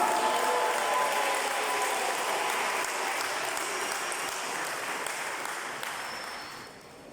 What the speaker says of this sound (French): nous invitons la sœur Eunice sous vos acclamations